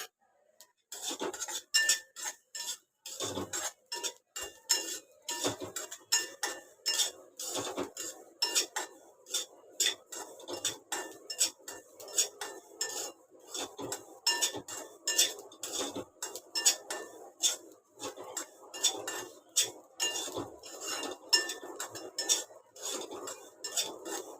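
Rice rava, coarse ground rice, is dry-roasted and stirred in a pan, with a steady run of scraping and clinking strokes from a metal spoon against the pan. The sound is close and continuous, with no talking.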